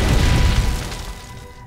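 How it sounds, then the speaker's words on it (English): A boiler room explosion in the Hello Neighbor video game, a single deep booming blast that rumbles and fades away over a second or so. "He caused that explosion."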